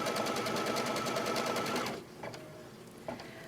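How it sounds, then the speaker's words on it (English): A home embroidery machine stitches rapidly around a box outline on bare stabilizer in the hoop, a fast even close chatter that stops after two seconds, followed by a few faint clicks. "And it's going to stitch all the way around."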